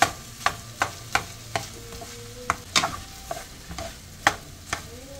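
Shrimp fried rice with soy sauce is stirred in a pan: sharp spatula knocks and scrapes repeat roughly every half second over a soft background sizzle, close and clear, with no talking.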